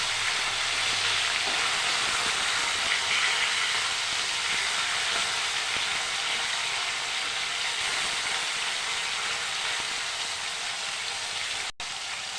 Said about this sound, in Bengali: ভালো করে মাছগুলো ভেজে নেব